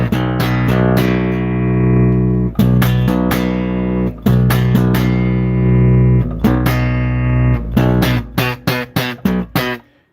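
Willcox Lightwave bass played through its piezo ice channel gives loud, bright, sustained notes with plucked attacks, a dense run up close that breaks into short separated notes near the end, no voice over it.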